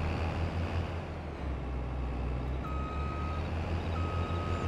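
Truck in Farming Simulator 22 backing up to a trailer, its reversing alarm giving steady repeated beeps over a continuous low engine drone.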